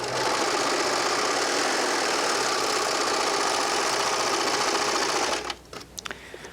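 A Baby Lock serger stitching across a washcloth, a fast, loud, steady mechanical whirring and rattling for about five seconds that then stops, followed by a few faint clicks and handling sounds.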